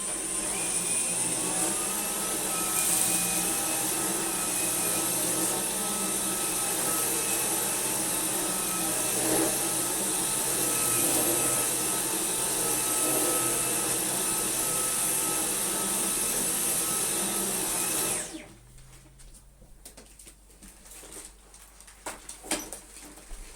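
A Dyson V6 Absolute cordless vacuum cleaner runs with a loud, steady high-pitched whine and airflow hiss for about eighteen seconds, then switches off and winds down, leaving faint handling clicks and knocks.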